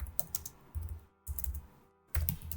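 Python code is typed on a computer keyboard in quick bursts of close key clicks, split by two short silent pauses.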